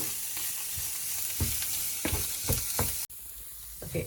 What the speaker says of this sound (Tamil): இந்த இறைச்சியில் இருக்கிற அந்த கிரவுண்ட் மீட்டில் இருக்கிற ஒயிலையே அதை நல்லா பொரிக்க